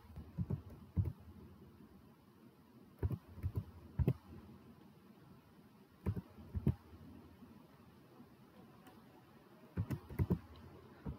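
Computer keyboard typing an Aadhaar number during an online sand booking registration, heard as short bursts of quick clicky keystrokes separated by pauses, fairly close and alone.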